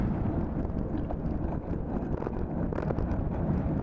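Strong, cold wind in El Calafate, Argentina, buffeting the microphone with a steady, dense roar that gusts slightly throughout, loud and continuous with no voices.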